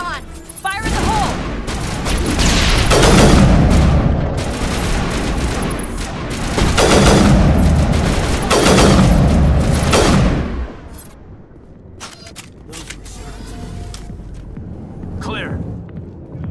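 Heavy combat in Mass Effect: loud, sustained gunfire and deep explosive booms, including a grenade blast, roll on for about ten seconds before dropping to sparse, quieter shots.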